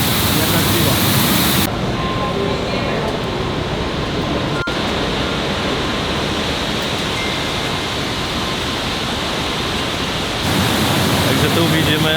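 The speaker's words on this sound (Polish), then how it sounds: "znajdujemy się pod wodospadem Niagara" Niagara Falls thundering from directly below, a dense, loud, unbroken roar of falling water that fills the space, briefly shifting in tone midway as if the listener moves, with faint voices buried under it.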